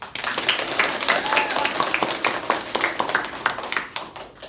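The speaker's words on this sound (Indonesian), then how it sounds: "Oke, tepuk tangan dong" Scattered hand claps from an audience at a drama event, crisp individual claps in a steady patter, while someone talks over them.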